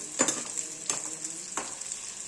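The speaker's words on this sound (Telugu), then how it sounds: "ఇలాగా ఫ్రై అవ్వనివ్వాలి బాగా" Brinjal slices deep frying in oil, a steady close sizzle with three soft scraping stir strokes spaced evenly through it.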